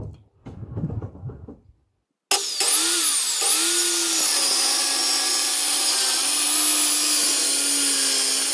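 A power saw cuts through a wooden stair stringer, a loud, steady whine running alone for several seconds after a quieter stretch of handling noise.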